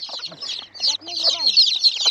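Hens and small chicks clucking and peeping close by, a busy mix of soft clucks and high thin chirps with a faint voice underneath.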